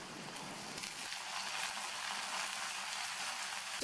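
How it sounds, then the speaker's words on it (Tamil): Turkey berries, drained from buttermilk, sauté in hot oil with garlic in a pan, giving a steady close sizzle that stays level and continuous. "இப்போ இந்த சுண்டைக்காயை நல்லா எண்ணெயிலேயே வதக்கி விட்டுக்கணும்"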